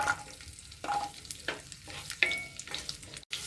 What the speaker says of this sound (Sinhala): ටික රත් වෙනකොට ඒකට අපි කපාගත්තු සුදු ලුණු ටික එකතු කරගමු.